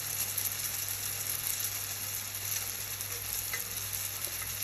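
Thai lotus flower cookies (khanom dok jok) fry in a pan of oil, giving a soft, continuous sizzle and bubbling at low level with no talk.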